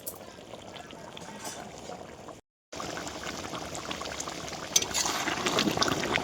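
Warm water poured a little at a time into a pot of cooking mutton curry, a steady close liquid rush and bubbling. A brief cut of silence breaks it partway through, and the sound grows slightly louder near the end.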